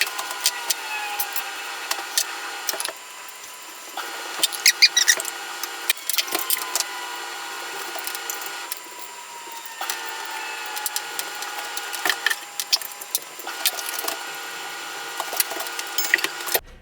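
Metal hardware for a vacuum filament drying chamber clinks and clatters during assembly, with sharp irregular knocks and scrapes close by in a quiet room.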